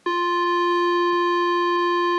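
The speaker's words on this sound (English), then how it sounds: "we're going to use a drone here with my app." Steady electronic drone held at concert F from a tuner app, a pure, unwavering tone with bright harmonics, sounding alone for about two seconds.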